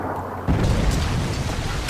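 A Predator missile strike in Modern Warfare 3, a sudden deep close blast that starts about halfway in and rumbles loudly to the end.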